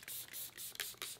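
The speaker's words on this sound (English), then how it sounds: "I'm gonna spray down. I'm using this Tea Time Hibiscus Glow Mist." Tea Time Hibiscus Glow Mist sprayed onto a face, several quick, soft misting bursts in a short uneven series, close by and faint, with no voices.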